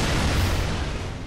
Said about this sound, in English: Cool guys dust off their capes after they escape from an explosion.